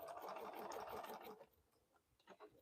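A Bernina sewing machine back stitches with a dense, fast mechanical whir for about a second and a half, then drops to a few softer, slower stitches.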